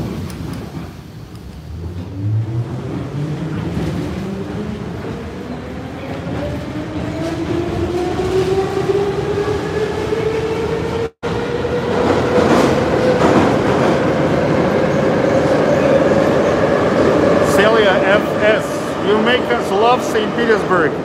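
A St Petersburg Metro violet line train runs underground beneath the Neva River toward Sportivnaya and Chkalovskaya, a steady loud rumble with rising motor whine throughout, wheels clattering near, with a brief dropout midway.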